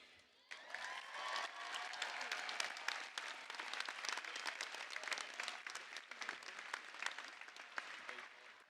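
Sustained applause from a large crowd at a university commencement ceremony starts abruptly and continues steadily, a dense wash of clapping heard from a moderate distance.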